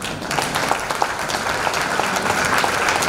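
Audience at a Holy Cross Convent special school silver jubilee breaks into steady, dense applause to welcome the chief guests, many hands clapping together at a constant loudness with no voices over it.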